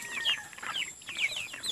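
Native free-range chickens cluck and chirp nearby in a quick run of short, bright calls that overlap unevenly, with a soft rustle of farmyard noise underneath and no talking.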